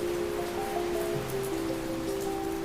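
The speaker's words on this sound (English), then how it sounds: "When sudden heavy rains pour down, columns of marching ants are suddenly thrown into chaos." Heavy tropical rain pours down in a Colombian rainforest as a steady, dense hiss with no gaps, loud and close and heard alone, while faint steady tones hum underneath.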